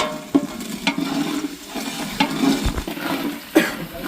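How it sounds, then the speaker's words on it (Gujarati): Onions fry in a large pot over a stove. A soft sizzle runs under a few sharp clanks and scrapes of stirring. No one speaks. "ડુંગળીને ફ્રાય કરી રહ્યા છે"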